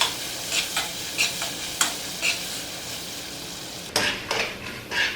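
Shrimp sizzling in melted butter in a pan, stirred with a utensil in a run of short scraping strokes over a steady close frying hiss, with a sharper clatter near the end.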